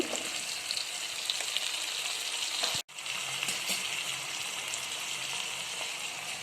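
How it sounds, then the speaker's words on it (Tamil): Vegetables for kara kulambu, including brinjal, tomato, drumstick and potato, sauté in a hot pan with a loud, continuous sizzle. The sound breaks off briefly midway, then resumes and keeps going without talk. "கத்திரிக்காய் சேர்த்துக்கலாம். நல்லா வதக்கிக்கோங்க."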